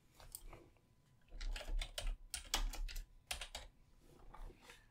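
Fingers tap out a short burst of typing on a computer keyboard, with quick, close clicks bunched into several clusters and a quieter pause at the start and end.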